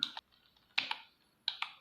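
Computer keyboard typing comes in three short, close bursts of a couple of crisp key clicks each, separated by quiet gaps.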